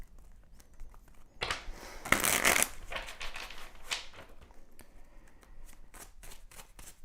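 Playing cards being shuffled close up, a few soft riffles building to a loud, fast flutter, then scattered lighter taps and shuffles.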